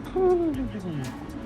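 A low hooting coo, drawn out and falling in pitch, heard close by over faint background noise.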